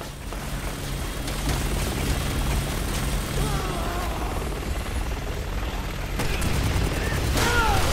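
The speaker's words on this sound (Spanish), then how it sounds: "The chopper is targeting us now." Resident Evil 6 combat: an attack helicopter drones overhead while rapid gunfire crackles in dense bursts, with game voices breaking through the steady loud din.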